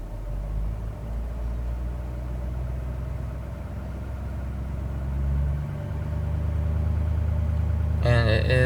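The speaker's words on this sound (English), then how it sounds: "hold the brake in this to start the truck. It is going to turn on, and what you'll see is the RPMs will go up" A pickup truck engine runs at a low steady idle, then its rumble rises as the revs climb to an elevated high idle. A brief clatter is heard near the end.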